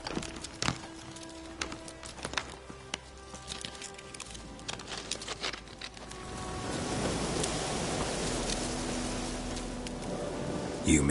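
Steady video game rain hiss that swells louder midway, with scattered drips and soft clicks, no voices.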